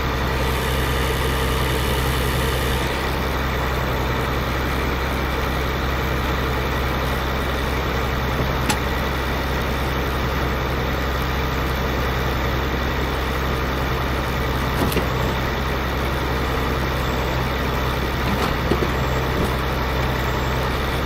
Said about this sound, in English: here's a slightly newer tractor doing firewood stuff